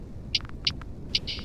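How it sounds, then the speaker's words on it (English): Lo-fi beat hi-hats played alone with a quintuplet swing: four crisp, bright ticks spaced unevenly across a second and a half, the last one held as a short sizzle, over a faint hiss floor. "Hats by themselves sound like this."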